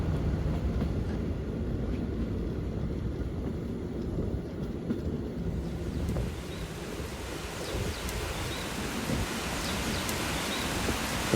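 A steady rumbling roar of a train rolling past through an Italian town continues throughout, dense and constant with a rushing, wind-like wash over it.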